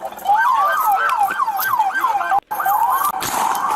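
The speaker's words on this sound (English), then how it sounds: "Turn the siren off." Police car siren sounding loud and close in bodycam footage, a rapid rising-and-falling wail repeating steadily for several cycles, briefly cut out once before resuming.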